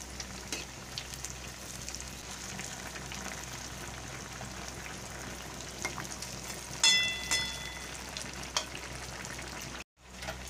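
Palm pitha fritters fry in hot oil with a soft, even bubbling sizzle, fairly faint, with a few clinks of utensils midway and a brief cut near the end.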